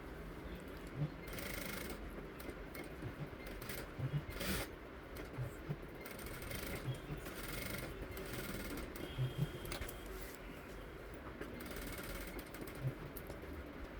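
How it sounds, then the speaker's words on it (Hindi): A sewing machine stitches a design on cloth, a faint, fast mechanical rattle running steadily with a few brief louder bursts, recorded close but at low level. "सारे को हम ऐसे धीरे धीरे मशीन चलाएंगे"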